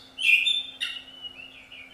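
Pet poultry and birds calling, with a bright chirping call near the start, a second sharp call just under a second in, then softer trailing tweets, fairly close over a low steady hum.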